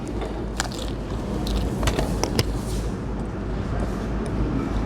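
Crisp crunches from biting into a shrimp hard shell taco filled with rice, several sharp snaps close to the mouth followed by softer chewing against a low background hum.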